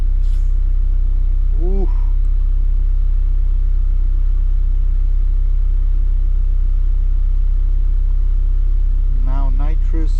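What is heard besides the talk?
Honda Civic engine starting and running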